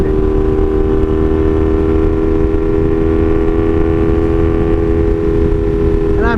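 A 1982 Honda Magna VF750C motorcycle with a loud exhaust runs steadily, its close, heavy engine drone holding an even pitch throughout with no talking.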